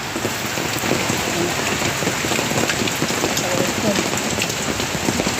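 Heavy Typhoon Paeng rain pours steadily onto a house, a dense, constant wash of close drumming drops with no break, and a faint voice briefly under the downpour.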